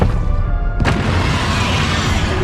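In the Hogwarts Legacy game, a Depulso force spell lands with a sudden loud boom and burst of energy, rising out of a dense roaring bed of game sound that stays heavy afterward.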